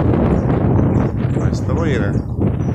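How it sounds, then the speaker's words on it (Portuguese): Strong wind blows at a lakeside campsite where brothers are fishing, roaring steadily into the microphone throughout while someone talks over it. "O vento tá muito forte, né?"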